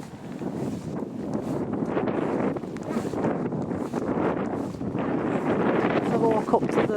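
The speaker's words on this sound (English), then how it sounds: "Get windy here, guys, because we're right on the tops now." Steady wind buffets the microphone with a constant rough roar, with no pauses throughout, on an exposed hilltop summit.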